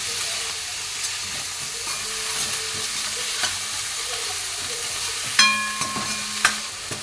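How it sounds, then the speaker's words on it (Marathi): Spring onion greens stirred in a hot pan while cooking kadhi, a continuous sizzle and hiss with scattered scraping clinks of the spoon against the pan, close and steady with no speech. "आता त्याला चांगलं हलवून घ्यायचं आहे आणि एक वाफ काढून घ्यायची आहे"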